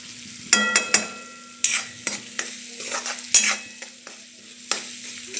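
A spoon scrapes and stirs peanut bhaji (shenga bhaji) in a frying pan, giving a series of sharp, close knocks and scrapes over a soft sizzle, with no voices.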